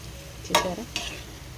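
Chicken curry pieces frying in a pan are stirred with a spoon, giving two quick scraping strokes over a soft sizzle, close and alone.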